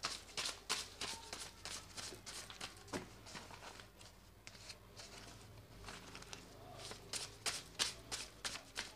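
Tarot cards being shuffled by hand in quick, repeated riffles and taps that come in irregular bursts, soft but close, with no clear speech.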